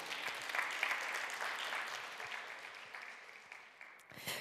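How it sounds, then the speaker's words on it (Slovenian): Conference attendees in the Union hall of Hotel Union give a round of applause for the hotel kitchen, fairly quiet clapping that slowly fades before a few louder claps at the end. "en velik aplavz za kuhinjo hotela Union"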